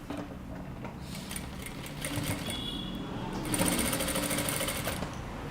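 A sewing machine stitches a kurta at close range, its steady rapid mechanical whirr running throughout, louder and busier toward the end.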